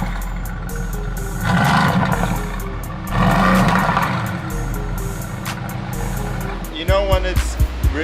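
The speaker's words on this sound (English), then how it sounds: "Art, look, exhaust sound over there." A car engine and exhaust rumble nearby and swell in two revving surges, with people talking over the noise.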